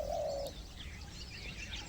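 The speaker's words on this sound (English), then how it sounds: "others filled the forest with songs." Birds in the forest of Rajaji National Park: a clear, steady cooing call for about half a second up front, then fainter chirps and tweets scattered over an open outdoor background, with no talking.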